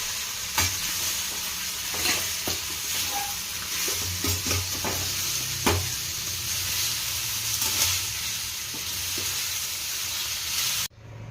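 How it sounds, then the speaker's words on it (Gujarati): Bottle gourd dhokla is tempered in hot oil with green and dried chillies, asafoetida and sesame seeds, a steady close sizzle and frying hiss with scattered pops and stirring clicks, fairly soft, ending abruptly. "આપણે ઢોકળાને વઘારી લઈશું."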